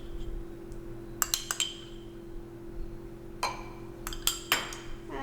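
Tarragon, lemon juice, Dijon mustard and salt stirred together in a bowl: scattered light clinks and scrapes of a utensil against the dish, in small clustered bursts over a steady background hum, with no voices.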